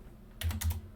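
Computer keyboard keys tapped while entering router configuration commands, a brief burst of three or four close clicks within a second.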